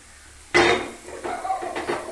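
Chopped soybean chunks dropped into a hot pan for dry roasting, a sudden loud clatter at first contact followed by a few softer scraping, rattling bursts of pieces shifting against the metal.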